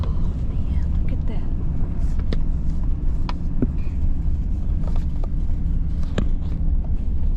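A car travels a two-lane road with a constant broadband road and engine roar from inside the cabin, a few faint clicks and knocks over it, and occasional voices.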